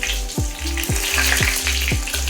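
Asafoetida and curry leaves hit hot oil in a potato curry tempering and sizzle steadily and close up, with repeated sharp drops in pitch over the constant frying hiss and no talking.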